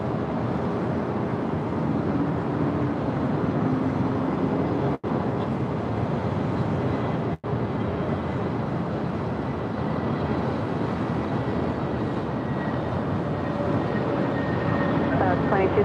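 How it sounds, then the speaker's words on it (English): An American Airlines A321 airliner on short final approach to runway 24 Right at LAX, a loud, steady broadband jet roar close by, sustained throughout with two brief dropouts. "the American A321, now in short final for 24 right"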